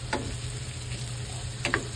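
Carrots and red bell pepper fry in a pan with a steady, soft sizzling hiss. A couple of faint clicks from the utensil come through close by, and no one talks.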